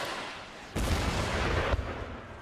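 Cannon fire in the strategy game Empire Total War, Prussian campaign: a loud booming broadband blast erupts after a quieter rumble, sustaining heavy battle noise with a second sharp report near the end, no talk.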